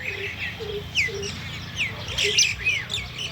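Several birds chirp and tweet in short repeated calls, fairly close, over a low background rumble.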